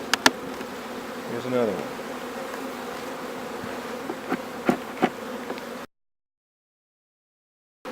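Honey bees buzz steadily around two open beehives set side by side, a continuous near drone with occasional louder passes close by, and someone speaks briefly over it before the sound cuts off.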